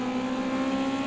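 Race car engine in Project Cars 2 roaring steadily at high revs, close and loud, with a sustained droning tone throughout and no talk.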